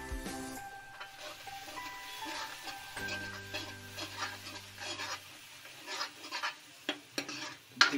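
Chana masala being stirred in an oil-filled frying pan with a spoon, soft scraping strokes that grow louder toward the end with occasional sharp clicks against the pan and a faint sizzle and hum underneath, close and moderately quiet.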